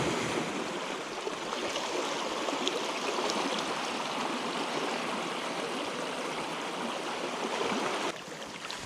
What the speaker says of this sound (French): la marée commence à se remplir